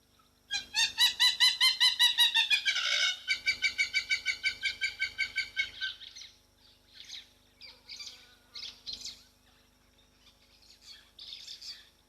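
Hadeda ibises squawk in a loud rhythmic burst of harsh repeated calls at a waterhole, followed by scattered chirps and shorter cries from other birds.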